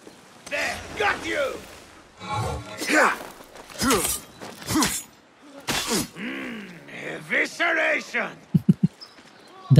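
Glass shattering in the video game Assassin's Creed Mirage during a fight, with repeated crashes and breaking bursts mixed among game voices and grunts, ending in a quick run of sharp impacts.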